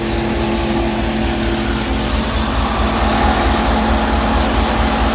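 Old Chevy small-block V8 idling, a loud, steady, low rumbling drone that holds without change throughout, heard close with no talk.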